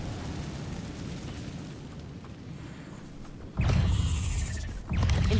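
An Incendio fire spell in Hogwarts Legacy setting a spider web alight: after a quiet, murky stretch, a loud sudden whooshing burst of flame flares for about a second, then a second fiery burst follows.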